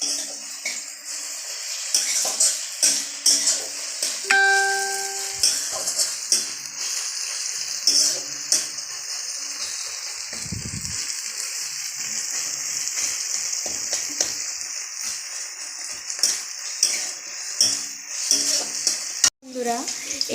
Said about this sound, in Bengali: দেখতেই পাচ্ছ আমাদের মশলা কিন্তু ভাজা ভাজা হচ্ছে।